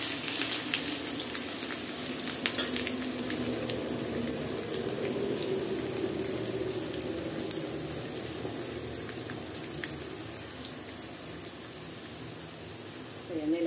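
Okra pakoda frying in hot oil makes a steady, close sizzle with fine crackling that holds evenly throughout the clip, unaccompanied by talk.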